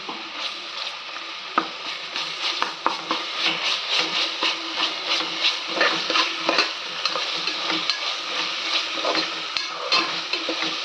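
Ginger garlic paste sautés in a pan, a steady close sizzle with a spoon or spatula stirring and scraping in soft repeated strokes throughout, with no voices.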